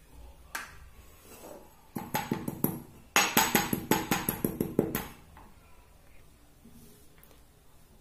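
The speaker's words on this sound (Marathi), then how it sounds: "ही मोहरी खलबत्त्यात बारीक करून घ्यायची आहे।" Half a spoon of mustard seeds is pounded in a mortar and pestle, giving a quick series of regular, close knocking strikes for about three seconds, followed by quieter scraping.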